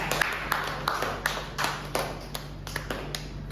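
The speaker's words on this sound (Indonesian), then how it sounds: "beri aplaus semua" Applause from a primary school classroom during a science lesson, light scattered claps with a few sharper taps standing out, moderately loud and close, with no speech over it.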